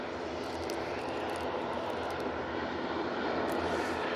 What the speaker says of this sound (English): I'm sure you can hear the props.